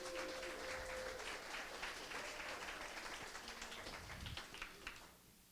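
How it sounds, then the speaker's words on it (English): Audience applause at an evening ReactJS meetup in Denver for the food sponsor, a steady wash of clapping lasting about five seconds from a medium-sized room, tapering off near the end. "Give them a big round of applause."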